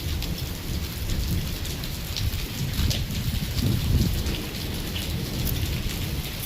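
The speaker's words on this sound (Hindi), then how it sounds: "देखिए हमारे सिल्टा में ओले पड़ने लग गए।" Hailstones falling in a heavy village rainstorm in Silta, a loud continuous patter on surfaces with deep rumbles of thunder swelling underneath and no voices.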